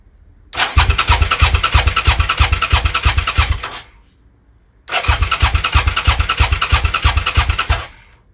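Suzuki SV650 motorcycle engine cranking without choke, two bursts of rapid rhythmic starter churning, each lasting about three seconds with a short silent gap between, close and loud.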